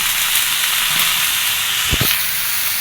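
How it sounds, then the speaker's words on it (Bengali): Eggplant and soybean chunks fry together with mixed vegetables in a pan, a steady close sizzling hiss throughout with a brief stirring scrape near the end and no talking. "ভেজে নিব এবার এর ভিতরে দিয়ে দিব বেগুন আর সয়াবিন"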